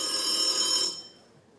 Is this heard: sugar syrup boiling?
no